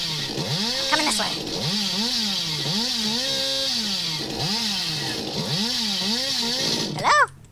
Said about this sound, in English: I'm getting my chainsaw out already!